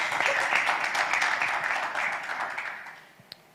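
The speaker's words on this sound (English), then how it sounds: "A round of applause as he takes the stage." An audience applauds as a presenter takes the stage at an insurtech program event, a steady moderate clapping that gradually fades out near the end.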